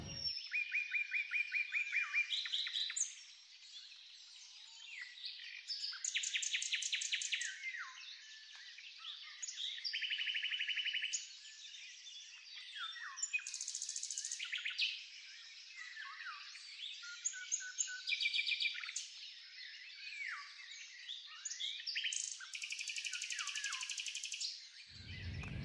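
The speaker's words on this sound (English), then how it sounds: "Listen to the songbirds. You'll find, if you listen closely," Songbirds sing outdoors in a backyard, with a busy mix of chirps, trills and whistled phrases that overlap and trade off through the whole stretch, bright and moderately close.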